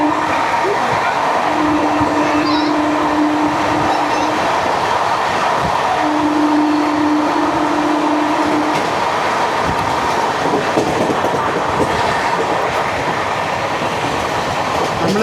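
Jan Shatabdi express train running through Diva station, heard from on board as a loud, steady rumble with rhythmic rail clatter and two sustained horn-like tones early on.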